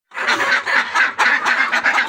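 A flock of Sonali hens at an egg farm squawk loudly and nonstop, with overlapping harsh calls pulsing several times a second, close and with no talking.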